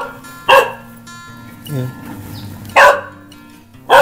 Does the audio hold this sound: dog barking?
yes